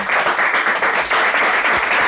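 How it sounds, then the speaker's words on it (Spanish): Steady, dense audience applause at a book presentation for the illustrated book "Intensa" by Lotero, an Argentine illustrator. The clapping holds at an even, full level throughout with no voices on top. "Le podéis dar un fuerte aplauso."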